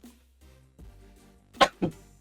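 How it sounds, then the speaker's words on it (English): One big human sneeze bursts out suddenly, close and loud, followed by a shorter second burst, after a stretch of quiet room sound. "Oh, that was a pretty big sneeze."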